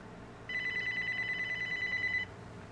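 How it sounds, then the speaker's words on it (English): A phone rings with a bright electronic tone that repeats quickly and steadily for almost two seconds, then stops, over a quiet background. "Phone noise. Yeah, I know. That's mine."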